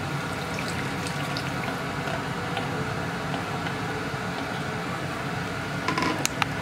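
Steady stream of water poured into a cooking pot holding chicken for a burrito filling, a continuous close rushing wash that runs evenly throughout, with a few small clinks near the end.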